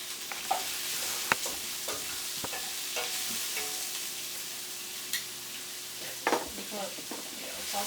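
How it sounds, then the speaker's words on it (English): Onions for a Moroccan lamb paella sauté in a pan with a constant close sizzle. Scattered light stirring taps and clicks sound now and then over the frying. "Saute them until they're just soft and translucent."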